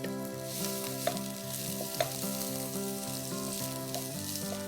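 Roughly chopped broccoli stems sautéing in a pan, a continuous close sizzle with a couple of sharp pops, heard alongside a steady humming tone and no speech.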